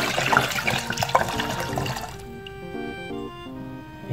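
Alcohol glugs and splashes as it is emptied out of a bottle into a container while making a basil mosquito repellent. The pour is close and steady for about two seconds, then thins to softer trickles and drips.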